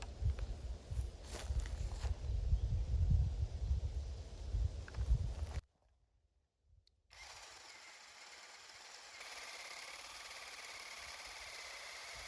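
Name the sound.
drilling a hole in wood with a spade drill bit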